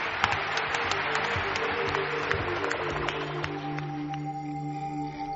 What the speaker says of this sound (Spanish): Mariano, nuestro aplauso.